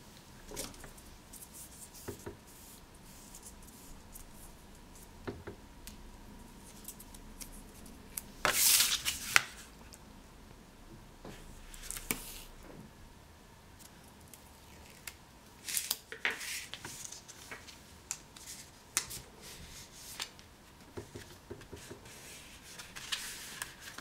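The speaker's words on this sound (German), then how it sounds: "Also bringe ich jetzt als nächstes hier Klebeband an." Adhesive tape being pulled and pressed onto a paper pocket page for a handmade mini album, with scattered rustles, rubbing and a sharp tearing burst, close and quiet.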